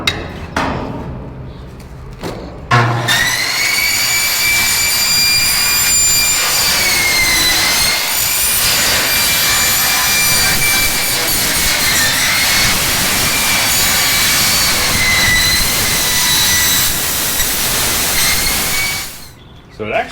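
A Milwaukee 8-inch metal-cutting circular saw cuts through steel B-decking. A few knocks come first, then the blade spins up into a long, loud, high-pitched whine that stays steady and winds down near the end.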